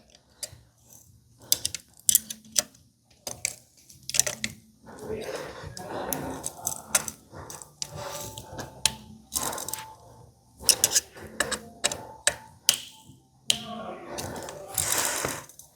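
A clamp on a T-Cycle Spring Fairing kit is tightened down at a bicycle's derailleur mast, giving a run of sharp mechanical clicks and ratcheting ticks, close and intermittent, with a voice heard at times.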